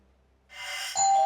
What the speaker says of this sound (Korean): 근데 왜 초인종을 눌러?